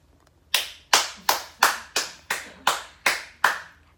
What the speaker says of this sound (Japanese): 拍手、イエイ、ありがとうございます